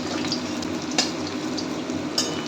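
Red amaranth leaf fritters deep fry in a wok of hot oil, a steady close sizzle with light stirring scrapes and a couple of sharp utensil clicks.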